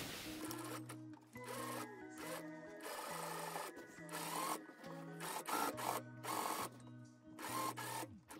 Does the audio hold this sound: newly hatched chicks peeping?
no